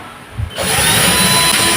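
Power drill boring a hole for PVC, starting at about half a second and running steadily loud and close to the end, with no talk over it.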